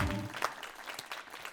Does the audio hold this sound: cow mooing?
no